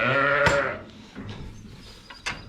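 Ewes and lambs bleat at a farm, a close wavering bleat at the start followed by fainter scattered calls and a short knock, with no talk.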